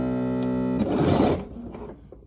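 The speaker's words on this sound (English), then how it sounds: "let's put a couple back stitches in here real quick." A Bernina 770 QE sewing machine back-stitches a quarter-inch seam on a quilt top, first as a steady motor whir, then as a short, louder burst of rapid needle stitching that fades out.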